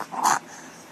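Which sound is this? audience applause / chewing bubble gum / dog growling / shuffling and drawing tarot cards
dog growling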